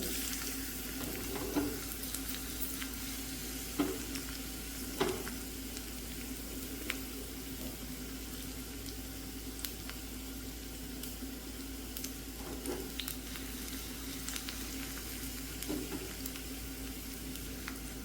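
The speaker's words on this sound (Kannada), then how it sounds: "ಇದಕ್ಕೆ ಬೆಳ್ಳುಳ್ಳಿ ಸೇರಿಸ್ತೇನೆ, ಗುದ್ದಿಟ್ಕೊಂಡಿರೋದು." Crushed garlic sizzles in about three spoons of hot coconut oil, a steady quiet crackling fry with occasional soft pops and spoon taps, continuing for a long stretch.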